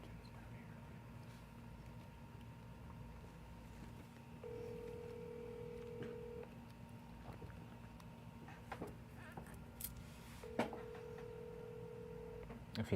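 Two steady push-button tones sound a few seconds apart over a constant low hum as a telephone number is dialed, with faint background noise and occasional clicks between them.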